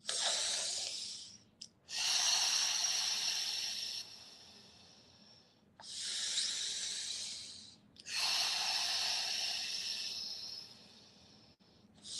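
Slow, deliberate breaths drawn in through the nose during a guided breathing exercise, each long airy inhale followed by a pause, repeated about four times close to the mic with no talking.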